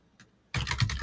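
A computer keyboard typing a PowerShell command: after a faint tap, a quick run of close, crisp keystrokes in rapid rhythm fills the last half second.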